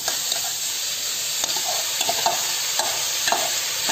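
Onions are stirred as they fry in an uruli while tomatoes are added, giving a steady close sizzle broken by repeated scraping strokes of a spoon against the pan.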